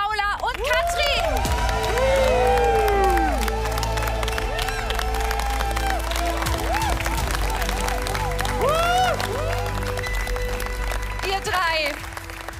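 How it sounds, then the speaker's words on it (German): Warm applause and cheering from a TV studio audience greeting three finalists on the cooking show The Taste, a loud, dense crowd roar with whoops and excited shouts mixed in, fading near the end. "Begrüßt Sie mit mir mit einem herzlichen Applaus."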